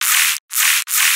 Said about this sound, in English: we've added a noise layer which sounds like this